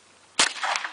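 A single loud, close gunshot from a Thompson semi-auto Tommy gun cracks out and decays quickly with a short reverberant tail.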